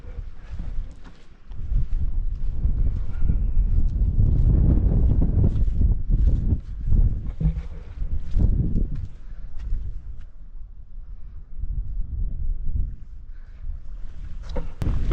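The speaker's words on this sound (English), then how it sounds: "Still a bit of wind coming towards us, but it's not enough to worry about." Steady gusts of wind buffet the microphone at a campsite, a loud, rumbling roar that swells and eases over the clip with no talking.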